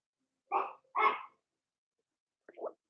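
Dog barking indoors, two quick medium-pitched barks close together followed after a pause by a softer short bark, heard fairly faint and alone in an otherwise quiet room.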